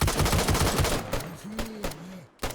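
Gunfire in the survival game DayZ, a sniper firing from rooftops: dense rapid cracks at the start, then a few sharp separate shots, with a voice speaking between them.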